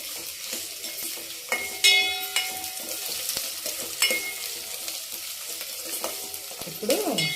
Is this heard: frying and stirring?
yes